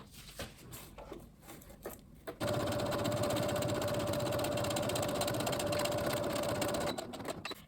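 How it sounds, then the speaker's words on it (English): A sewing machine runs a steady running stitch along the top edge of face mask fabric, loud and continuous for several seconds, preceded and followed by brief stop-start whirring. "you want to sew with a running stitch up the top."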